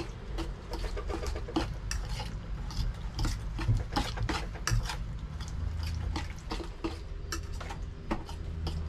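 A marinade of minced ingredients for chilli barramundi mixed together in a bowl, with a steady run of close clicking, tapping utensil strokes and soft wet squelching throughout, no talking.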